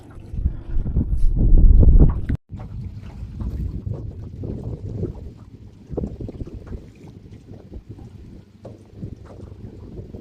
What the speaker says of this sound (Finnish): Meneepä kovaa isoksi veneeksi.